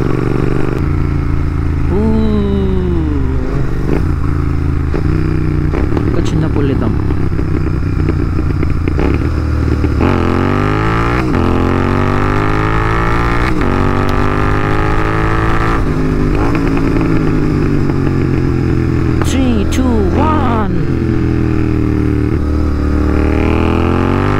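Royal Enfield GT650 motorcycle ridden at night in Hyderabad, its twin engine revving up and down through gear changes with rising and falling pitch, loud and close throughout, with wind noise.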